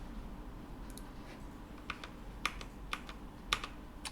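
Computer keyboard typing, a few soft scattered keystrokes followed by sharper clicks that end with an Enter press, close and quiet with no talk.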